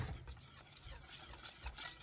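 Gelatin is stirred into a custard-like key lime pie filling sweetened with stevia, a faint scraping swirl in a bowl with soft clinks of the utensil.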